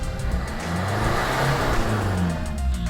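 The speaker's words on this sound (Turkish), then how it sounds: "Gaz ver bırak." Citroen C3 with a 1.4 HDi diesel engine being revved in a workshop, checked for white smoke from dripping injectors: a steady mid-pitched engine drone that swells and eases back, close and continuous, with no talking.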